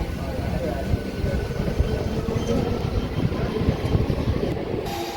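An MMTS local commuter train rumbles and clatters as it pulls away from Malakpet station in Hyderabad, heard from inside with a steady rolling rhythm, loud and close.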